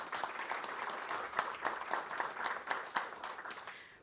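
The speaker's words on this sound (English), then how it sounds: "we will applaud her name tonight" A board meeting audience claps in a quiet, thinly spread patter, fairly faint and distant, with a few sharper individual claps standing out.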